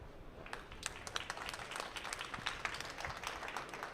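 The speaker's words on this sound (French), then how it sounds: "j'aimerais juste que vous les applaudissiez 30 secondes" A small audience applauds at the inauguration of an asbestos-safety exhibit at a Lyon prevention trade show. The clapping is faint and distant, a steady patter of scattered claps that lasts about four seconds with no voices over it.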